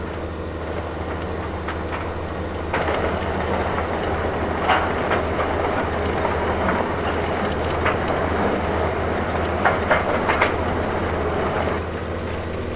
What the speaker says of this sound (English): This is one heck of a train.